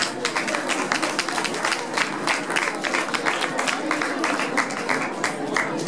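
Audience applause at an anniversary evening event, a sustained, dense burst of many hands clapping together at steady strength for several seconds, with faint voices in the crowd.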